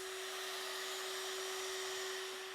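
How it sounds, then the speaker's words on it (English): A multi-router cuts mortises into mahogany piano bench legs, giving a steady, loud, high motor whine with a hissing cutting noise that runs unbroken throughout, with no talking. "Back at the multi-router, we cut the mortises on the inside of our legs."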